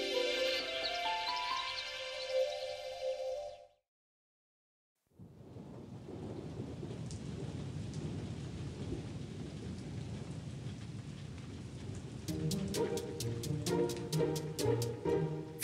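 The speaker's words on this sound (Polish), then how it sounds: "Wciąż pada i pada, kto deszcz zapowiadał." A cartoonish musical sting cuts to silence, then a steady wash of rain hisses and rumbles, with bright plinking tones entering at the end.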